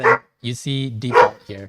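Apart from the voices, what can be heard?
dog barking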